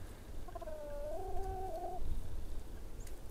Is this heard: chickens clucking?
yes